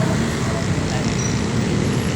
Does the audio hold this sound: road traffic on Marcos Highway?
yes